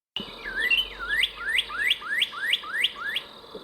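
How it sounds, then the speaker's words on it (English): A bright, clear northern cardinal song of repeated slurred whistles, about eight in a steady rhythm, close and loud with no talking. "Northern cardinal? It is a cardinal."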